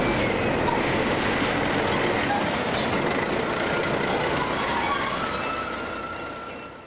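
Continuous rumbling and rattling of a narrow-gauge locomotive shunting slowly nearby, steady and loud throughout, easing slightly toward the end.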